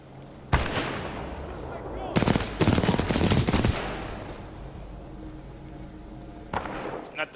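Video game gunfire in Titanfall 2, with loud close bursts of rapid automatic shots, one short volley early, a longer sustained stream in the middle, and another shot near the end over a constant background rumble.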